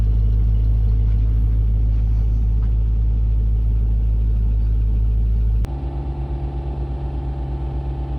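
A Land Rover Discovery 2 engine runs close and loud at a high, steady rev with a deep rumble, then abruptly drops to a lower, pulsing idle for the last few seconds; no one speaks.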